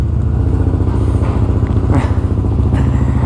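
An Aprilia SR GT200 scooter engine drones steadily and loudly at close range while riding, holding an even pitch with a slight rise and light clatter throughout.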